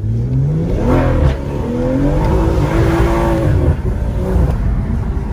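A car engine rumbles loudly and close by, its pitch rising and falling as it revs repeatedly.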